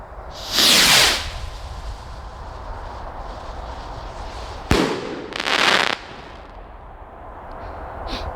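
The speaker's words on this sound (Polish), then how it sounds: "w porównaniu do bomb dużo wyżej lecą" Firework rockets shoot up with loud rushing hisses, one early and two more after a sharp crack midway, over a steady outdoor background and without talk.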